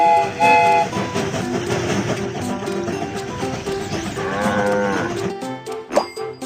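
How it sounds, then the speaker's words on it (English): Cartoon sheep standing on a train track bleat over bright, steady background music, with train sounds mixed in throughout. "Some sheep are on the train track."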